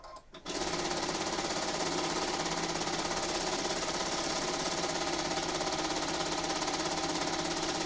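A sewing machine stitching a quilt starts up after a brief pause, then runs at a steady, fast mechanical whir and rhythmic knocking, alone and fairly close.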